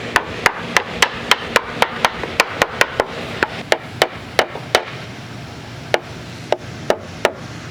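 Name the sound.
tapping a porch board into place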